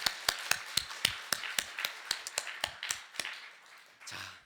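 Sharp, evenly spaced claps in church, a steady rhythmic run of single crisp hits at moderate loudness, sounding more like one person clapping than a large congregation.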